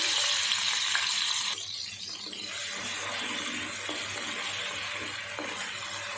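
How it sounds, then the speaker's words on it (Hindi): Ginger and garlic fry in a pan of ghee and oil, a steady close sizzle with stirring scrapes; the hiss drops slightly after a moment, then continues evenly, with no voices. "अब उसी ऑयल में 1 चम्मच अदरक और लहसुन डाल देंगे।"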